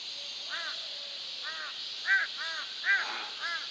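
Crows give a series of about six harsh, repeated caws spaced roughly half a second apart, fairly close and clear over a steady high-pitched background hiss, with no talking.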